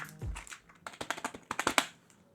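Keys clatter on a Pantec K613L full-size non-mechanical keyboard in a quick, uneven burst of close, crisp taps, sparse at first and then clustering densely before trailing off.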